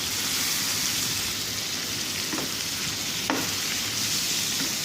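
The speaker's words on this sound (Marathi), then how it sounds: "त्यानंतर आता त्यामध्ये आपल्याला सोललेली कोळंबी घालायची." Peeled prawns frying in a pan with a steady, close sizzle and a couple of faint clinks from stirring.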